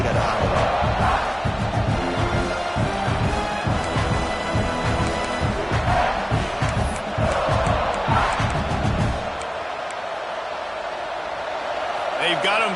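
A loud college football stadium crowd in a South Carolina vs SMU video game roars and cheers continuously, a dense wall of voices with rising swells, easing slightly toward the end.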